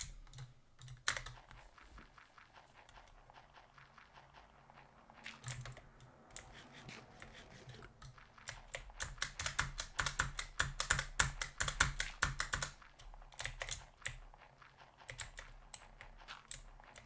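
Fast mouse clicking while playing Minecraft, a long run of rapid sharp clicks that grows denser and louder toward the middle, heard close and alone without speech.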